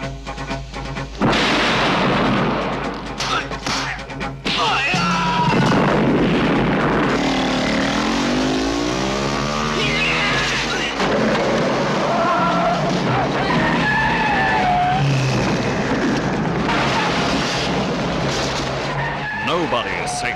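Film car chase with tyres skidding: a loud, continuous roar of engines and screeching, squealing tyres with crashes and shifting whines, dense and busy throughout, with voices mixed in.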